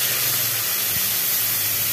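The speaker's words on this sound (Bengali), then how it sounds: "এবার জল ঢালতে হবে।" Water hits a hot pan and sends up a loud, steady hiss of steam that fills the whole brief moment at close range.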